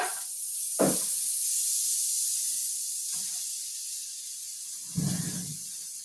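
Bolognaise ingredients going into a hot pan all at once give a steady, loud sizzling hiss throughout, with a couple of soft thuds as food drops in.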